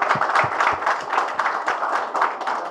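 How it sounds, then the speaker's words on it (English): Audience clapping for staff members at a Malabar Jewellery showroom's 7th anniversary event, a steady spread of hand claps at moderate level filling the moment with no talk over it. "I request you to give big clap to all the staff members who have done."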